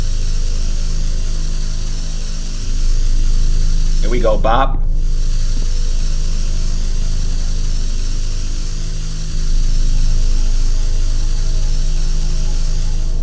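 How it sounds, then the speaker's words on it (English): A can of Febreze sprayed onto smelly shoes gives one short, loud hissing burst of about a second, set between stretches of someone talking and steady background hum. "Look at the color of the spray."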